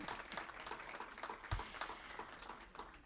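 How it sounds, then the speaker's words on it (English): Audience at a Yonkers chamber breakfast forum gives a round of applause for two New York State Assembly candidates, faint and distant, a steady patter of many hands with a brief louder thump midway. "I think both our candidates deserve a round of applause."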